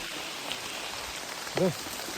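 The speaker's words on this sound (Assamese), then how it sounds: "বৰষুণ দিছে।" Rain falls steadily at a night campsite on the Meghalaya–Assam border, an even hiss of drops that runs the whole time, and a brief voice-like sound rises near the end.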